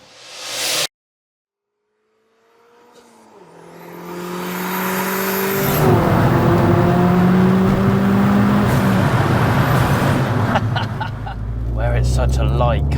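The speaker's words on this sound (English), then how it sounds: "we'll get it fired up and we'll go for a spin" A 340 bhp fully built Abarth 595 cranks and fires up after a brief silence, then idles and revs loudly with a raspy, rising engine note, with people talking over it.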